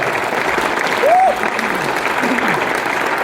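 Dense, steady applause from an audience at a business success celebration fills the whole stretch, loud and close, with a brief voice rising over the clapping.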